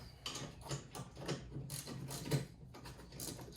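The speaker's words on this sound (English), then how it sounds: "This is a 17mm socket." Ratchet with a 17mm socket working bolts on a Polaris RZR 170, a series of faint clicking ratchet strokes in quick bursts, close and quiet with some shuffling handling noise.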